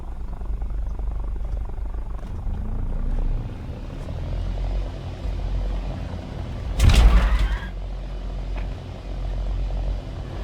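A trainer aircraft's engine drones in War Thunder during a quick takeoff, a low steady rumble with a brief loud burst partway through, and no talk.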